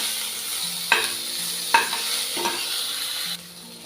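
Tomatoes stir-fried in a pan, cooking down toward a paste: a steady sizzle with three sharp scrapes of a spoon, under quiet background music.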